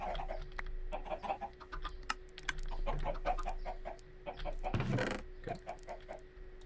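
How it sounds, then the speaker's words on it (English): Chickens cluck in a multiplayer video game, with repeated short clucks scattered over a quiet background, one louder burst near the end, and occasional soft clicks like typing. "it's probably about time to feed the chickens again."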